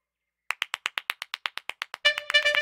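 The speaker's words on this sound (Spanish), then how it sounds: "Te damos un aplauso." A crowd applause sound effect: about fourteen crisp, evenly spaced hand claps, followed by a denser burst of clapping with a held tone. It plays alone, with no talk.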